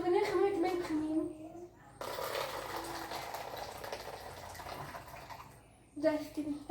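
Hot water gushes from a tap in a steady, hissing stream for about four seconds, with children talking just before and after.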